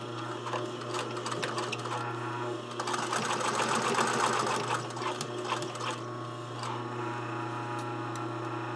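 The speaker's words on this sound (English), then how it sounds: "Stitching the side seam, being careful to keep the sleeve out of the way." A sewing machine runs steadily along a sleeve side seam, a close, continuous mechanical whir with rapid ticking stitch beats and no talking.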